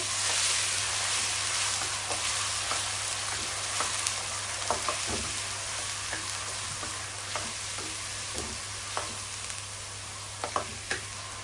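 Garlic and ginger paste frying in a pan for Bangladeshi fish curry (fish bhuna), with a steady close sizzle throughout and irregular scraping, ticking stir strokes on top, no talking.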